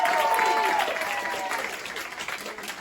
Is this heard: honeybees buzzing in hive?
no